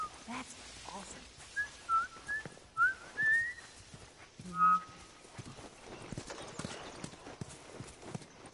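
A game character in The Last of Us whistles a few short rising notes, faint beneath horse hooves clip-clopping and background game sounds, with voices talking over parts of it.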